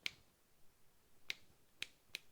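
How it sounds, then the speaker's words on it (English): Four crisp finger snaps ring out in a quiet garage, sharp and close, spaced unevenly with a longer gap after the first. "I could try to snap my fingers"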